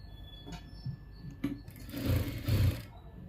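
Sewing machine stitching a blouse band, starting with a few short bursts, then running in a louder sustained stitch with a brief pause, up close and alone.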